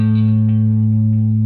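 A sustained musical interval of a major second rings out, two tones held together loud and steady with a slightly processed, effects-coloured timbre and no talking.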